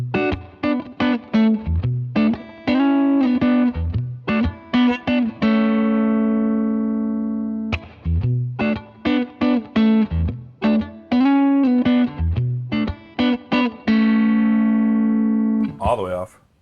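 Electric guitar runs through an Origin Effects Cali 76 compressor as its release control is changed, heard as choppy picked phrases and a few ringing sustained chords, loud and up close, without speech.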